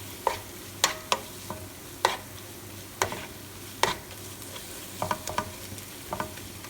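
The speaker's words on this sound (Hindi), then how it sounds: "काजू का पेस्ट शामिल करके इसको 2 से 3 मिनट आप और भून लें" Cashew paste frying in a pan for shahi aloo, a soft bed of sizzle punctuated by sharp irregular clicks and scrapes of a spoon stirring against the pan, close and without talk.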